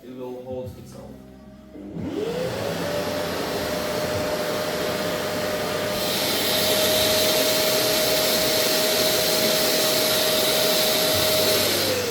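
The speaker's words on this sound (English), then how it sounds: "So it works with the vacuum, and the suction has to be big" A vacuum attached to a power tool switches on after a short stretch of speech and then runs steadily and loudly, a strong whining drone with a constant tone that carries on to the end while it builds on a floating shelves project.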